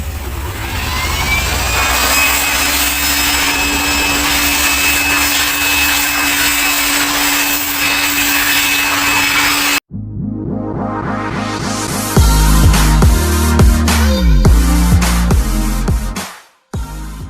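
A compressed-air blower roars steadily while drying the engine bay of a Ford Everest during an engine wash. After a brief cut, louder bursts of blowing follow alongside clattering handling noise, then the sound abruptly drops out.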